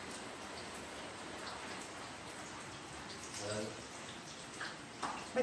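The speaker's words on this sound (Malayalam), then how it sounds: "നല്ല മഴയാ" Heavy rain pours steadily outside a home in Kerala, a dense, even hiss of drops on surfaces that continues throughout, with a brief bit of nearby talk toward the end.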